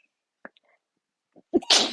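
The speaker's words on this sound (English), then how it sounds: "Sneezed on a Facebook Live." A single close, sharp sneeze erupts at the end after a few faint breathy sounds, loud against an otherwise quiet room during a live stamping and vellum craft stream.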